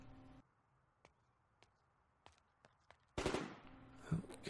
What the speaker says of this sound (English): Gunshots outside.